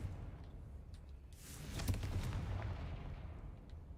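A Confringo fire spell explodes in Hogwarts Legacy, a rolling, rumbling blast that swells midway and lingers low and heavy for a few seconds with no talk over it.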